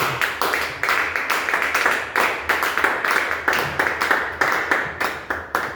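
A church congregation claps in acclamation during a service, steady rhythmic handclaps repeating throughout at close range with no speech over them.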